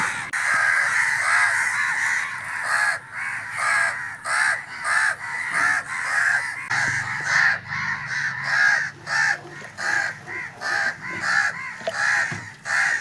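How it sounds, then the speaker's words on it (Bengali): Many crows caw overhead outdoors in a steady run of loud, repeated harsh calls lasting the whole stretch, with several birds overlapping and no talking. "মাথার উপরে এত কাক ডাকছিল"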